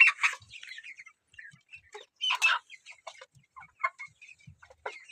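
Cockerel and chickens at a poultry yard where birds are being debeaked, giving sharp clucks and short raised calls in uneven bursts, fairly close and clear with quiet pauses between.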